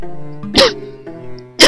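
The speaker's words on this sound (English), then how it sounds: "Pardon me if I cough." A person with a lingering cold coughs twice, sharp and close, with a short pause between the two loud bursts.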